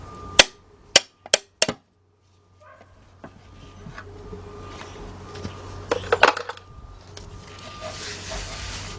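Four sharp hammer blows on a 1977 Buick LeSabre 350 engine ring out close in quick succession, followed by a low hum and scattered clanks and a brief cluster of knocks against the engine.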